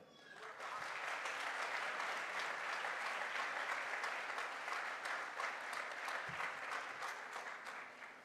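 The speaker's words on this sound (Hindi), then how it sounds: "एक बार तालियां हो जाए" A crowd at a direct selling motivation event applauds in steady, sustained clapping that swells in and holds for several seconds before easing off.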